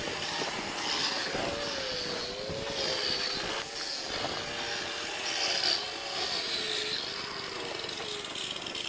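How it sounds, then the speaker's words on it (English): Small chisel carving detail into a single block of ice at an ice art championship, a continuous scraping and rasping with faint shifting squeaky tones, moderately quiet and steady, with no voices. "you can see he's using a very little chisel to get the depth"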